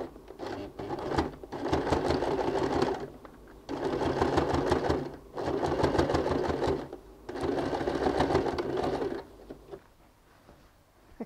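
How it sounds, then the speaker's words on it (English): A sewing machine stitches black bias binding onto a leather handbag, running in four steady bursts of a couple of seconds each with short pauses between, close and fairly loud, with no talk. "I'm just going to sew on the black bias binding so I don't see any other stitching there."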